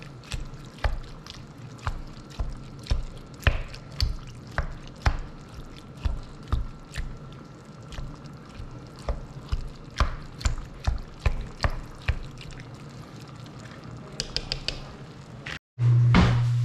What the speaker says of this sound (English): those stewed tomatoes, try to smush them, break them up as much as you can